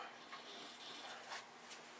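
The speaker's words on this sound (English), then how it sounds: "Oh, some gurgling." Water rushing and gurgling through in-floor heating pipes just after a valve opens, a faint, steady hiss with small bubbling surges, close by and without talk.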